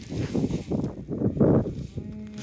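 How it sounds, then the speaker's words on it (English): Neighbouring beef cows with their nearly weaned calves moo repeatedly out in a farm paddock, several loud, drawn-out calls overlapping close by with a fainter, higher call near the end. "There's the neighbours' cows with their soon-to-be weaners, I imagine, coming to say hello"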